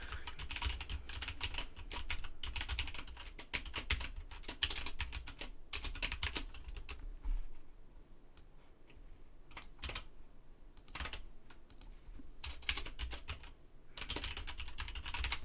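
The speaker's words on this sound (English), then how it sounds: "Really getting good at typing" Rapid clicking of keys on a computer keyboard, typed in steady bursts with brief pauses, close up and with no talking.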